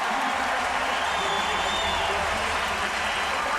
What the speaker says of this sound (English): you can hear the crowd back into it, and they're excited about what's happening here